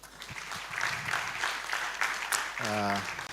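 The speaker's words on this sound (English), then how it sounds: "I'm going to ask you to clap again for Mr." Quiet applause from an audience at the launch ceremony of a financial consumer advisory centre, soft and steady clapping with a voice rising briefly near the end.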